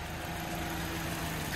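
A Maruti Brezza car engine idles steadily during an inspection, a low, even hum with a faint tonal drone and no voices.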